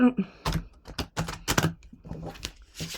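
Angel-message oracle cards are shuffled by hand in quick bursts of papery riffling and slapping, close and moderately loud, with brief pauses and a voice faintly present.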